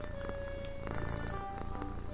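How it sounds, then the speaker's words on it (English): A computer in the video game Jazzpunk purring like a cat, a steady close rumbling purr running continuously under layered game music and electronic tones. "There's a fucking computer purring at me."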